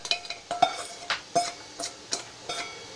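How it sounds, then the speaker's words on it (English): Mushrooms in hot olive oil being stirred in a pan, a series of sharp utensil scrapes and clatters at irregular intervals over a faint sizzle, close and clear with no voices. "We're going to saute those down for, 2 or 3 minutes till they start turning a little bit brown"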